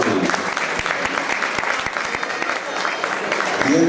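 Audience applauds a tropical music orchestra at a tribute concert in San Martín, Meta; dense steady clapping fills the whole stretch, fairly loud and close.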